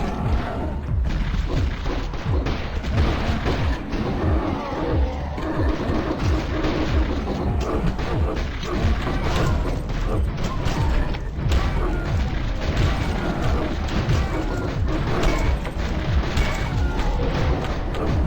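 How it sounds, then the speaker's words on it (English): Rocket launcher fire in the game Decision III, a steady barrage of booming thuds and crashing impacts over mechanical clatter, loud and continuous with no talk. "Technically, this is a rocket launcher, but you know what I mean!"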